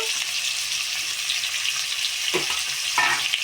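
Potatoes dropped into hot oil in a home kitchen pan set up a steady, close, bright sizzle that holds throughout, with a couple of brief louder bursts of spattering near the end; no one speaks.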